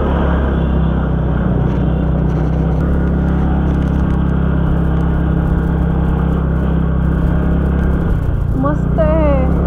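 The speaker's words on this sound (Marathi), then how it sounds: "ऑलरेडी गर्दी दिसते इथे गाड्यांची" Crowded car traffic on a road in Nainital, Uttarakhand, heard from inside a vehicle as a constant loud engine rumble and road drone, with a brief horn-like tone near the end.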